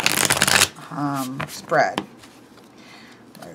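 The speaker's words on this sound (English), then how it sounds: "Just wanted to get a good shuffle in." Close, rapid riffling of tarot cards being shuffled, followed by a brief spoken word and a few faint card taps.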